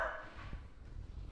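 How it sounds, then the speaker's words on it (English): A dog barks faintly in the background, a couple of short muffled woofs at a distance in an otherwise quiet room. "Sorry about the dog"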